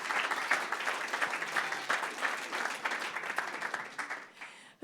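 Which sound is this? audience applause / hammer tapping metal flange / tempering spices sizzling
audience applause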